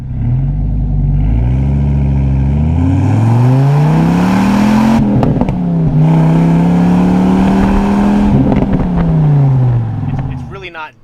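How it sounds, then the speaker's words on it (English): V10 engine of a 2006 Dodge Ram SRT-10 pickup, a loud, close exhaust rumble rising and falling in pitch as the truck accelerates and shifts, with a burst of added roar midway, heard while driving. "That V10 sounds so good."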